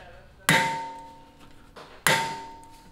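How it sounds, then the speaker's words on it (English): Two sharp metallic hammer strikes on a driver against a Brembo brake caliper bolt ring out with a bright clang and short decay, separated by a lighter tap. "If you want to remove it, go towards the left, and it'll help hammer it out basically."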